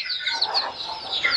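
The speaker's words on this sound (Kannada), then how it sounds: "ತಾಯಿ ಕೋಳಿ ಇದೆ" Native country chickens on a farm, a mother hen among chicks of different sizes, give a busy stream of high, overlapping clucks and peeps close by, with no voices.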